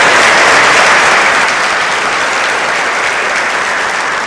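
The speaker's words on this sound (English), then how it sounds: "please, another big round of applause for Deputy Executive Jason Overstreet" Large convention audience at a bowling congress annual meeting applauds loudly, a thick continuous roar of clapping that starts strong and eases slightly toward the end, with no one speaking.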